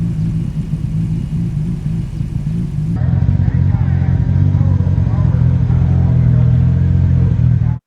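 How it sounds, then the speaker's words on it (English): A JDM sports car in GTA V idles with a lopey, uneven burble like a stroked RB26, loud and close, the low rumble thickening after a few seconds and then cutting off abruptly. "the idle sound is really lopey. It actually sounds like a stroked RB26"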